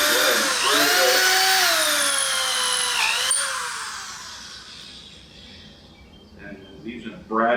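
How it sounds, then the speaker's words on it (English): A power drill with a 3/8 brad point bit whines loudly as it bores a draw-bore hole through a wooden mortise and tenon joint on a Roubo workbench, its pitch sagging under load before it spins down and handling noises follow. "we're going to go ahead and drill this"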